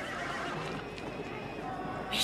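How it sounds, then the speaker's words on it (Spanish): A horse in a Western film neighs and whinnies, heard briefly at mid distance over a soft background rumble, with a sharper burst at the very end. "Su caballo parece muy cansado."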